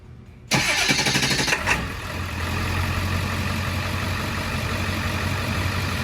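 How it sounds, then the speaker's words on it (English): A large diesel pickup truck engine cranks briefly after a remote start, catches, and settles into a steady low rumbling idle, close and loud after a quiet start. "truck should start in a few seconds."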